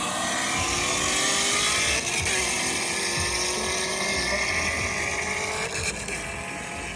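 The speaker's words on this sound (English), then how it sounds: "This is third gear and then the next one's second gear." A car engine pulls hard in third gear at a street car meet, a loud continuous roar with rising harmonic tones, dipping briefly around the middle and near the end before climbing again.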